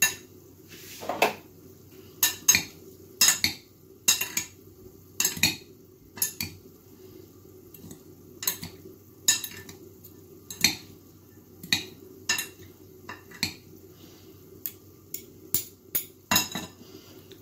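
Macaroni salad with cooked peas being stirred in a bowl, a series of distinct clinks and scrapes of a utensil against the dish in an irregular rhythm over a quiet background, with no talking.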